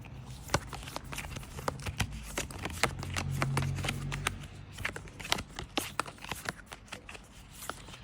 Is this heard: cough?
no